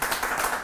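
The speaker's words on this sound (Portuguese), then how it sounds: "Aplausos para a Duda." Brief burst of audience clapping at a talk-show interview, a dense continuous patter of many hands filling the whole moment.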